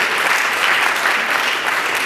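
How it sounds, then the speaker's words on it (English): Conference audience applauding, a steady burst of many hands clapping that fills the whole short stretch without any voices. "You can clap for that, you do."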